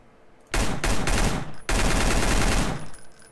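Loud, close bursts of automatic gunfire from a weapon in the shooter game Escape From Voyna, two short volleys and then a longer sustained burst, ending abruptly.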